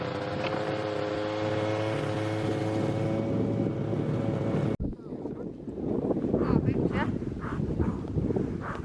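Strong wind on a frozen lake in Estonia during ice fishing, buffeting the microphone as a steady roar under an engine-like hum, then turning into gusty rumbles after a sharp knock, with a voice faintly beneath.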